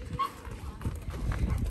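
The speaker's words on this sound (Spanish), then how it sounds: "Mira, la perrita va, sube, sube." A small dog scrambles up into a Challenger 264 motorhome, with scattered light paw thumps and scrabbling steps on the floor, close by, and some faint background voices.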